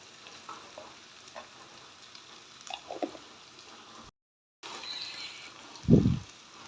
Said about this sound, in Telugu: ఉల్లిపాయలు వేగినండి ఉల్లిపాయలు పచ్చిమిర్చి కూడా వేగినాయి